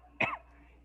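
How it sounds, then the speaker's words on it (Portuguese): A single sharp cough bursts out close and fairly loud, then fades quickly into a quiet room. "crise de tosse"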